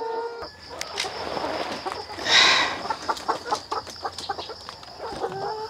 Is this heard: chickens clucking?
yes